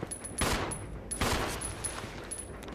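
Two sharp, loud bursts of Resident Evil Zero gunfire about a second apart, with a faint electronic tone in the background and no voices.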